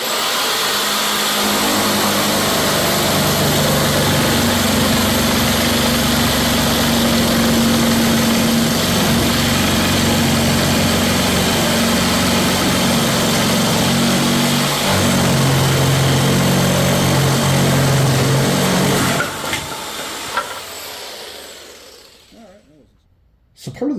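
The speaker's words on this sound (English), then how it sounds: "So yeah, we'll cut that piece off with the jigsaw." A jigsaw cuts through a spalted sugar maple live edge plank with a loud, close, steady buzzing drone that runs for about twenty seconds, its pitch shifting slightly with the load, then winds down to silence.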